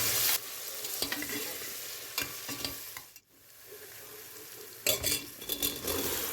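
Tomato paste sautéing in a pan for a meat and broad bean stew gives a steady close sizzle, broken by scraping stirs and light clinks of a utensil against the pan.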